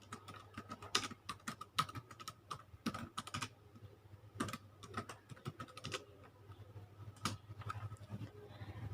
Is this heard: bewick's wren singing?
no